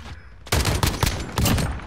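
Rapid bursts of video game gunfire, sharp loud cracks fired in quick clusters after a brief quiet start.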